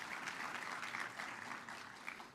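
Applause from an audience at a presentation on food and health policy, a steady wash of many hands clapping at moderate distance, fairly faint and continuous throughout.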